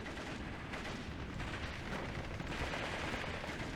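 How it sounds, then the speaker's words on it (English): Light artillery fire rumbles in the Steel Division 2 strategy game as a dense, continuous wash of distant booms and crackling blasts, steady and loud without clear gaps or voices. "And now he calls in his first light artillery of the game."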